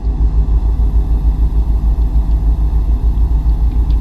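Steady low engine rumble of a truck cruising on a highway in American Truck Simulator, a continuous droning hum with no talking.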